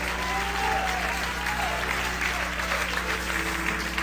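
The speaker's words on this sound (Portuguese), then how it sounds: "Isso merece uma salva de palmas maior," Church congregation applauding at a Pentecostal preaching service, a steady wash of clapping with crowd noise held at an even level throughout, with faint voices mixed in.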